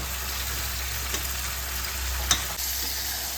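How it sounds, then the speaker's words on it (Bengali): Constant oily sizzle with occasional scrapes and a brief clink as fried potatoes are stirred into spice paste in a hot pan for fish curry; no voices. "এখানে যে ভেজে রেখেছি আলুগুলো এর মধ্যে দিয়ে দেবো"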